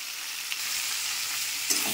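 Spices and vegetables frying in a pan for a Bengali home-cooked dish, a steady close hiss and sizzle with a brief stirring scrape near the end, no voices.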